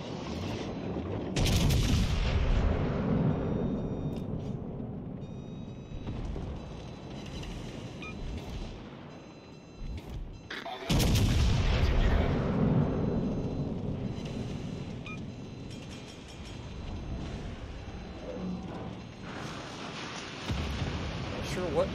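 Naval gunfire from ships in World of Warships Legends, with heavy booming shell salvos arriving in two big bursts that roll off into a rumbling tail, someone talking over the battle.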